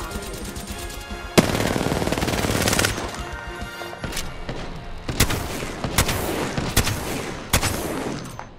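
Gunfire from the battle royale game Apex Legends: loud automatic bursts and sharp single shots crack in quick succession, and several sudden blasts punctuate a dense, continuous barrage up close.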